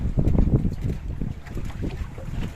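Strong wind buffets the microphone on a fishing boat off the Andaman coast near Krabi, producing loud, gusty low rumbling throughout.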